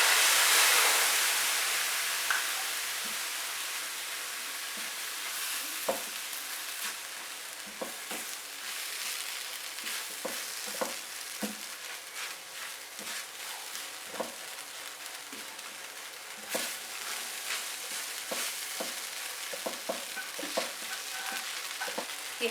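Bread patty filling stirred and fried in a pan, a steady close sizzle throughout with frequent sharp scraping clicks of a spoon against the pan at irregular intervals.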